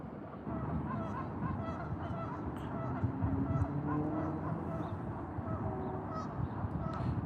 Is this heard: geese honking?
yes